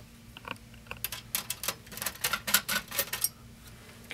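Small screws holding the slot placeholders on a Shuttle SZ170R8V2 cube PC case are unscrewed, giving faint, close, rapid ticking clicks in irregular clusters over a low hum.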